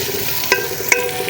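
Chopped onions frying in hot ghee over medium heat, a steady sizzle with two sharp spatula clinks or stirs.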